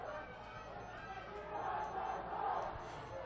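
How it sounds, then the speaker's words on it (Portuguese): A crowd of spectators cheers at an aquatic park during a swimming meet's relay race, a distant, continuous roar that swells and fades gently under the echo of the pool hall. "Vocês conseguem ouvir a torcida animadíssima aqui no Parque Aquático"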